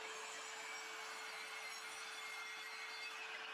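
An Evolution R165CCS-Li cordless circular saw cutting wood with dust extraction attached, producing a steady high whine and hiss throughout at moderate distance, with no talking.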